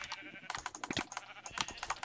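Sheep bleats from a Minecraft mini game, a quick run of short, clipped game sound effects mixed with clicky keyboard tapping, close and moderately loud.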